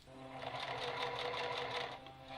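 A sewing machine stitches curtain fabric for a minivan camper van, a steady fast mechanical whir with an even rhythmic pulse, heard alone and fairly quiet throughout.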